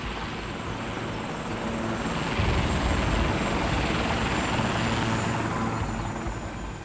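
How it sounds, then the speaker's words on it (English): A helicopter gunship of the Colombian army circles overhead in the jungle, its steady rotor chop and engine drone loud and continuous throughout, swelling slightly as it passes closer, with no voices. "And the chopper started circling where we'd been."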